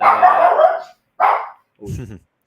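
A dog barks and whimpers close by in three short bursts, the last a lower whining cry.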